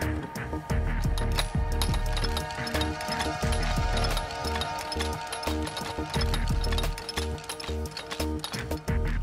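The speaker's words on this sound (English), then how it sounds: "Use tube wrenches to free the latch body from the surface mid-body." A tube wrench works a latch body free on a DiscovOre head assembly overshot, giving dense, rapid metallic ratcheting and clicking that runs continuously, close and loud.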